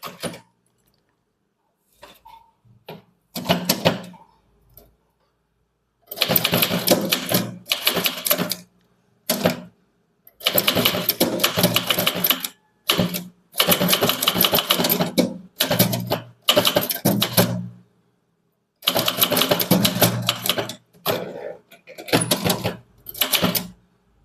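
A manual typewriter types a Tamil letter in quick rattling bursts of keystrokes separated by pauses, with close, sharp clacks and occasional carriage movements.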